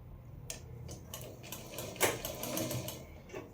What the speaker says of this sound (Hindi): सीधी तरफ से इस पट्टी को हम इस पे गले पे सिलेंगे।